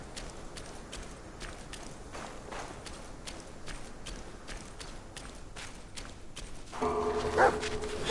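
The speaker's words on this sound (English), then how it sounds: "Dog." A dog barks in Black Myth: Wukong. Steady, fairly distant barks repeat over a constant background, with a brief tonal game sound rising near the end.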